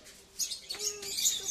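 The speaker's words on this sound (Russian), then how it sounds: "Попугаи, попугаи, все внимание, попугаи." Parrots calling, a few sharp high chirps and squawks in quick bursts, moderately close, with a faint tonal note underneath and no talking.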